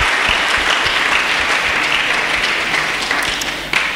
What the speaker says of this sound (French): J'aimerais qu'on acclame le Seigneur.